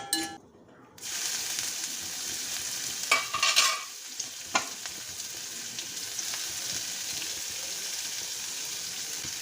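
Chopped banana flower stir-fried with urad dal in a pan for a Kerala thoran gives a low, continuous sizzle. A few close scraping and clinking stir strokes stand out midway.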